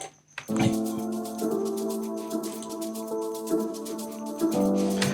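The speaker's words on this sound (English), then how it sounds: "decided pizzicatos, all strings pizzicatos" Pizzicato strings repeat plucked notes in a steady, quick rhythm, forming a looping deep house phrase with sustained harmonic tones underneath, clear and prominent with no talking.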